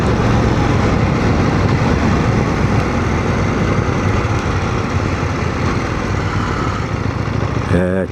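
A KTM Duke 790 motorcycle engine while riding, with a quick shifter fitted: a steady, close engine drone mixed with wind rush that continues unbroken, ending in a short buzzing flutter.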